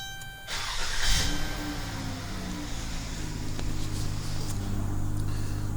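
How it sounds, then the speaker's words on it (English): A 2012 Dodge Caravan fires up by factory remote start: a short cranking burst, then the engine settles into a steady, close idle hum with no one speaking. "We can also start it with the factory remote, because it's 3-lock remote start as well."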